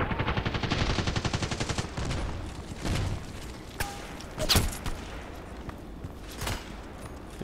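Rapid automatic gunfire from the online shooter Contract Wars, a dense burst of shots up front followed by scattered single cracks and short volleys, loud and close with no talk.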